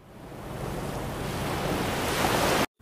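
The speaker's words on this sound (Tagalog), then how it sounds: "hihilamos na po ako ng muka" Tap water runs steadily at a sink during face washing, a close, continuous hiss that swells slightly before cutting off abruptly at the end.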